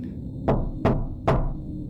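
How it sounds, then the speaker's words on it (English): Three sharp, evenly spaced knocks on a door, close and distinct, each with a short resonant tail, against a quiet background. "There was a knock at the door."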